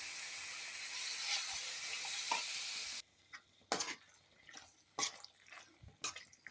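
Lemon pickle mixture being stirred in a hot pan, a steady sizzle for the first few seconds, then quieter with separate scraping strokes of the spoon and light liquid drips.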